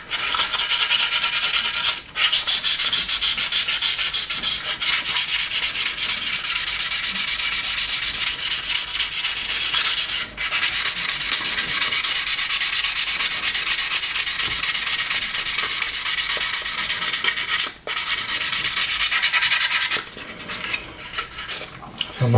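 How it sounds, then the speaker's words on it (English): Continuous close, loud scratchy rasp of sanding on the thick clear plastic canopy of an Airfix Handley Page Hampden model kit, steady strokes with a few brief pauses and no talking. "You can sand them quite a lot and it won't go through them."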